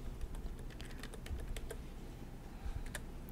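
Quiet computer keyboard typing while title text is edited in Premiere: scattered soft keystrokes in short bursts over a steady low background hum.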